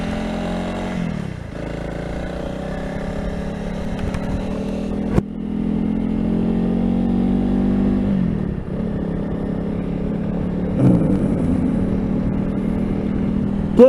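Honda CRF300 Rally motorcycle out for a ride, a steady close engine drone with gear changes and revs dipping and climbing, some wind and mechanical clatter, no talking.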